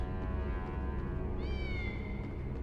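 Kitten meowing in a Harry Potter video game, one clear rising-then-falling meow over a steady background music bed, moderately close.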